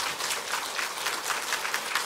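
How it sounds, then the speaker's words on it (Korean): Church congregation applauding a deacon receiving a plaque of merit at a Sunday morning service, a steady wash of many hands clapping throughout, moderately loud and continuous with no voices over it. "이 시간에 우리가 박수로서 위로의 아름다운 마음을 전하도록 하겠습니다"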